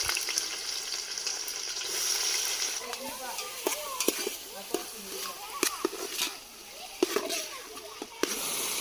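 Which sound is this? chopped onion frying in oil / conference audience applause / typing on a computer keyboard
chopped onion frying in oil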